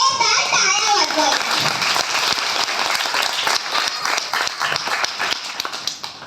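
An audience at an Ashwin Purnima Dhammachakra Pravartan Day gathering bursts into loud, steady clapping for the Samrat Ashok Buddha Vihar team, with some children's voices mixed in early on.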